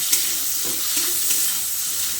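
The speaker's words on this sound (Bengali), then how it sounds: "তারপর বেগুনটাকে হালকা করে ভেজে নিচ্ছি।" Brinjal pieces with salt and turmeric fry in hot mustard oil, a loud, steady sizzle with soft stirring scrapes running beneath it throughout.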